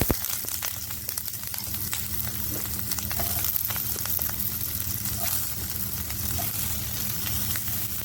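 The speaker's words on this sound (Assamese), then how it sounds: "ঘিটো আমাৰ গৰম হোৱাৰ পিছত আমি এতিয়া ইয়াতে পিঁয়াজখিনি দি দিম।" Onions frying in hot ghee for paneer butter masala, a dense continuous sizzle and crackle close by with occasional faint pops, steady throughout.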